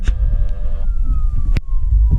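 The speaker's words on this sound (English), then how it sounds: "there's an ambulance approach, or fire truck approach." A fire truck siren wails in the distance with a slowly falling pitch over road rumble while driving on the M-54 highway, punctuated by a few sharp clicks.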